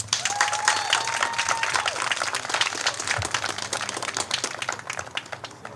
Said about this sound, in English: Let's have a round of applause for all of our seniors and the rest of the Cedartown Bulldogs.